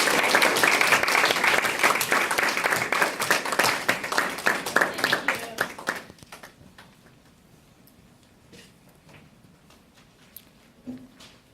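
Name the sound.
audience applause for a Toastmasters speaker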